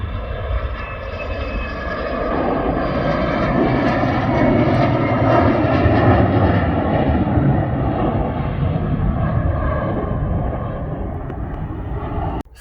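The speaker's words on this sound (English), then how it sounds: "I can hear something beginning its takeoff run, so hopefully we'll be able to see it from here" A private aircraft at Luton Airport begins its takeoff run, its engine giving a loud, steady roar that swells slightly and holds with no voices.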